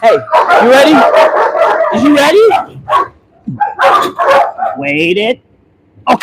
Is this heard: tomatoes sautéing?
no